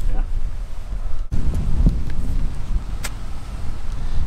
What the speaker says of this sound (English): it's a bit windy. Lot of wind.